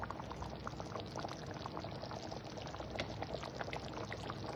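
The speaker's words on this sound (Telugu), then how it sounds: "ఉడుకుతోందండి బాగా." A curry with mustard paste bubbles in a pot, a continuous dense boiling and gurgling texture, close and fairly quiet, with no talk.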